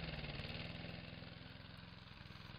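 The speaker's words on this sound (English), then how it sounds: "Okay, I was looking for a lawnmower," A blue lawnmower engine in the video game Garry's Mod runs at a steady, loud idle with a rapid, even chugging rhythm throughout, with no voices over it.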